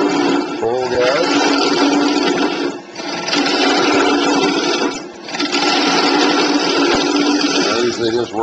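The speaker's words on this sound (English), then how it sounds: "We'll start the lathe up." A wood lathe starts up and runs at full speed, a loud steady whine with brief dips in level as the bowl blank spins.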